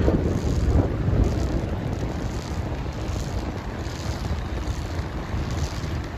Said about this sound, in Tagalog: Dinig nyo guys yung hangin? It's so very malakas.